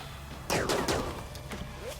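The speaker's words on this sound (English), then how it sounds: "Why don't you go ahead and shoot this finger spike to death." Gunfire in RimWorld as colonists shoot down a finger spike creature: a dense cluster of sharp shots bursts out mid-clip, then scattered single reports trail off over a low background hum.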